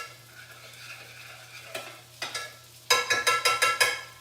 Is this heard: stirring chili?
yes